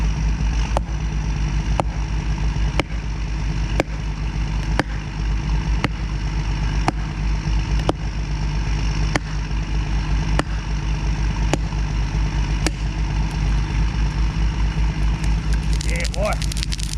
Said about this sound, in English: You can hear that skidder running in the background.